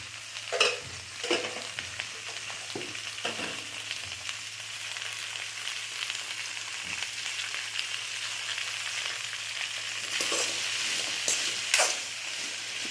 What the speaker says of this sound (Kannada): ಈಗ ಬೆಂಡೆಕಾಯಿನ ಹುರಿಯೋಕ್ಕೆ ಶುರು ಮಾಡೋಣ